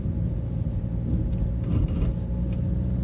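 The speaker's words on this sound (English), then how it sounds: "It's not helped by this sort of noise and vibration coming from this particular engine" A steady, low diesel engine drone and rumble from a 2009 Ford Focus Estate 1.6 TDCi heard from inside while driving, constant and fairly loud.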